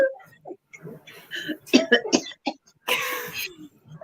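Several sharp, close coughs and throat clearing burst out after a quick inhale, loud and uneven, with a breathy pause before a final harsh fit.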